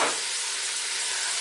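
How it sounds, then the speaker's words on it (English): Carrot pieces frying in a pan for a bean and aloe vera stew, giving a steady, close broadband sizzle that stays even and unbroken throughout. "here I'm adding the carrot. I like fried carrot."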